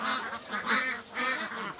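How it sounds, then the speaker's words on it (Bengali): White Pekin ducks on a farm give a few nasal, honking quacks in quick succession, close and clear, with short pauses between calls. "সাদা এই হাঁসগুলো বেইজিং বা পিকিং জাতের হাঁস নামে পরিচিত।"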